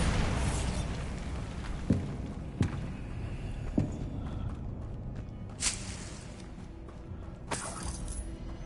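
Blasting spell explosions in the Hogwarts Legacy video game: several sharp, separate bursts and pops land over a steady dense background of game noise, spaced irregularly a second or two apart.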